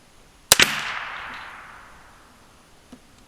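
A single sharp crack from a Ruger 10/22 rifle shot, close and loud with a short decaying tail, followed by a faint distant tick; no voices.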